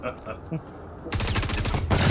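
Gunfire in the video game Star Citizen, a sudden loud burst of rapid shots erupting after quiet background sounds and ending abruptly.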